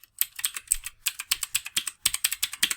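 New gaming keyboard being typed on, a close run of crisp, clicky keystrokes in quick uneven bursts with a brief pause midway, no talking.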